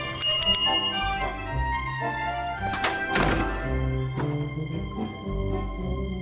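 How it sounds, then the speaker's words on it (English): Bell rung in the video game The Book of Unwritten Tales 2, with several bright metallic strikes whose tones ring and decay over a soft game music background. "The nice thing about the bell, Bill can't ignore me."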